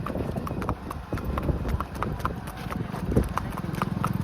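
A mare's hooves clip-clopping in a steady, repeated rhythm, fairly close, with background noise and occasional voices.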